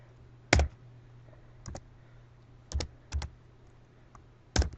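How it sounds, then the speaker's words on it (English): Typing on a computer keyboard while setting up a Minecraft Beta 1.7.3 Craftbukkit server: a handful of separate key clicks and short double taps, sparse and irregular, fairly close over a faint steady hum, no speech. "You have to type"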